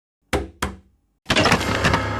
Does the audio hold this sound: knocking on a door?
yes